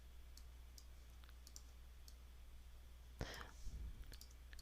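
A few sparse computer mouse clicks during image editing, faint and spaced out, with a brief louder rustle near the end.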